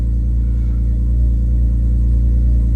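BMW E46 M3 engine sounding from the driver's seat on a drive, a loud, steady low harmonic drone of the engine under load, continuous with no speech.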